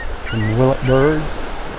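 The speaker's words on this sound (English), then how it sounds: "That was a willet bird you heard screeching." A willet gives two loud, harsh screeching calls in quick succession, close to the listener, over soft background noise on a beach at Pelican Bay, Naples, Florida.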